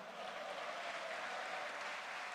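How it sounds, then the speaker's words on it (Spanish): Church congregation applauding steadily, a faint, distant wash of clapping that holds evenly throughout. "¿Cuánto da un aplauso al Señor?"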